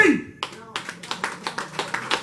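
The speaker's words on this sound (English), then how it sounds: "I want to give a warm round of applause for Chief Ping!" A small audience gives a few scattered, fairly regular hand claps at a Maroon eulogy gathering. The claps are close and moderately loud, with short gaps between them.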